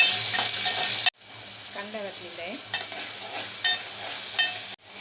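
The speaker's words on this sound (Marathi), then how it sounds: "आता डाळ फोडणीला घातलेली आहे त्यामध्ये मोहरी कढीपत्ता आणि मिरच्या टाकल्या आहेत" Mustard seeds, curry leaves and chillies sizzle loudly in hot oil for a dal tempering. The fry hiss runs steady throughout, with a few stirring scrapes and two brief cuts to near silence.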